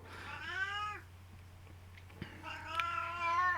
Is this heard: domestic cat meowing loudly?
yes